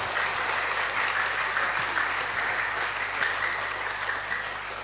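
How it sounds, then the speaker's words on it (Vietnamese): A lecture audience at a Buddhist dharma talk claps loudly for itself, a thick, even roar of applause holding steady for several seconds without speech. "Tự vỗ tay lớn chúc mừng mình."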